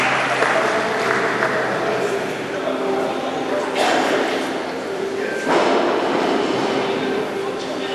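Applause from an audience at a women's category competition at the Ryszard Rysztowski Memorial, a sustained broad wash of many hands clapping with a couple of louder bursts, steady and fairly close.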